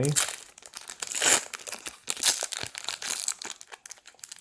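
Foil trading card booster pack being torn open and crinkled close up, in bursts of crackling and ripping, with a person talking at times.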